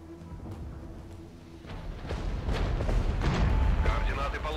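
Artillery fire in the strategy game Regiments, a low rumbling barrage of distant booms that builds louder toward the end, with a voice speaking faintly over it.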